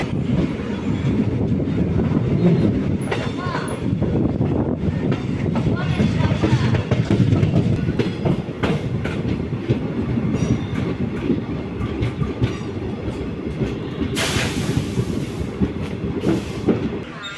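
Continuous rumble of a train running on rails, with steady clatter and a brief high squeal of wheels near the end; faint voices underneath.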